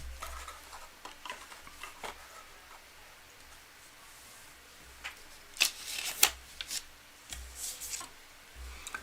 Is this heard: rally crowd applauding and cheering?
no